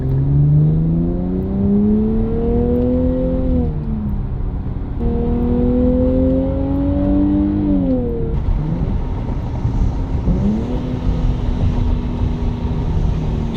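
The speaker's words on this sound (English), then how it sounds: "Ooh, those downshifts are crisp." A BMW with a ZF 8-speed automatic drops gears, the engine note rising sharply with each crisp downshift, then settling into a steady drone, loud and continuous with no voices over it.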